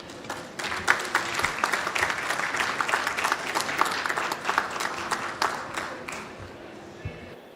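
Conference audience applauding after a speech at a COP26 climate session, crisp individual claps forming a lively, fluttering round that carries on for several seconds before thinning out.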